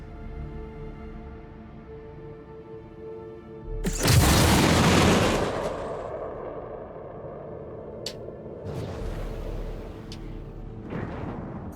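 Missile explosion in the space combat game Star Citizen: a heavy, booming blast strikes after a steady engine hum and rumbles on for a couple of seconds, followed by fainter secondary bursts and crackles; no talking.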